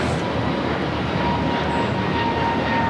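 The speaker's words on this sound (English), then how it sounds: "This is American Airlines 813 taking off to Philly on the A321neo" American Airlines Airbus A321neo jet taking off from LAX, a loud continuous engine roar with a steady broadband rush and faint whine, heard alone without voices.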